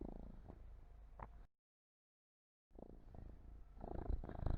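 A house cat purring close by during a lecture on pesticides and herbicides, a steady low rumble broken by a short silent gap, then resuming louder with some handling noise.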